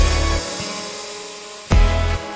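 Lead guitar opening the second chorus of a song, a short loud burst over low bass and synth tones that drops away midway and then returns with a sharp strike, without voices.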